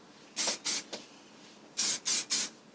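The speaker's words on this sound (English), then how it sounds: "You'll take your heat protectant spray." Heat protectant spray misted onto sectioned hair in two sets of quick bursts, two then three short close hisses separated by a pause, with a faint tail after the first pair.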